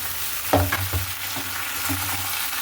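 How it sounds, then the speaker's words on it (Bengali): Potatoes and okra frying in a pan, a soft steady sizzle with a few light scraping stirs and taps, close and fairly quiet with no talk. "আলুগুলো ভাজা প্রায় হয়ে গেছে এতে দিয়ে দেবো হচ্ছে ঢ্যাঁড়সগুলো"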